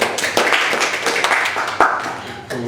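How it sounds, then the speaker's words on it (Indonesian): A small podcast audience claps, a brief burst of rapid overlapping hand claps at close range that thins out toward the end. "tepuk tangan dulu"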